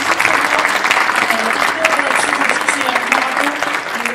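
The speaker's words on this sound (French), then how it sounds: "c'est vraiment de les applaudir." Audience at a closing session applauding steadily, a dense, continuous clapping that fills the whole stretch at even loudness with no voices above it.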